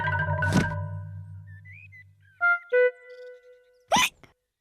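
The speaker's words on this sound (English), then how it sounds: "George still has hiccups." A cartoon piglet hiccups in a children's animated show, with a single sharp hiccup near the start, then soft whistly tones and two short clicks, and another loud hiccup near the end.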